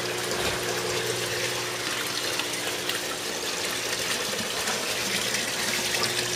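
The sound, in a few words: aquaponics fish tank outflow pipe water flowing into sump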